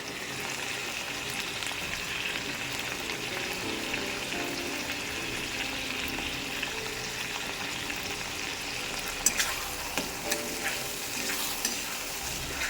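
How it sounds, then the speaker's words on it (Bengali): Ground spices with turmeric and Kashmiri red chili powder fry in oil, an even crackling sizzle running throughout, with occasional clinks and scrapes of stirring growing sharper toward the end. "এবার মশলাটা ভালো করে কষে নেব"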